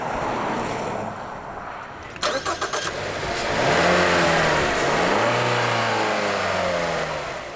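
A Mazda's new 2.5-liter four-cylinder engine turns over with a short burst of clicks, then revs up and settles into rising and falling acceleration, close and steady.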